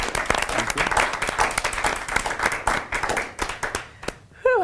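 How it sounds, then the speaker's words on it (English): A crowd bursts into dense, steady applause that fades toward the end, with a brief whistle cutting through as the clapping thins. "So big round of applause."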